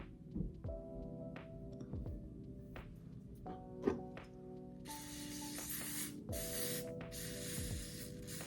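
Aerosol spray applied to wig lace: short, soft hissing bursts, three in a row near the end, quiet and close over a faint background hum with a few light taps.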